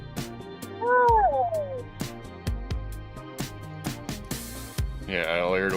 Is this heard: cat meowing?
yes